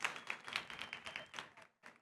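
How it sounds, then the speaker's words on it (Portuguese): A small audience at a climate observatory talk claps in a quick, steady patter of distinct handclaps, quiet and close, fading out and then giving one last short burst of claps. "Muitas palmas para Isilane"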